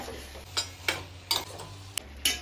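Seven Spices sukka masala cooks on a low flame in a pan, with a soft steady sizzle broken by five or six sharp scraping stirs spaced irregularly, close and fairly quiet, with no talking.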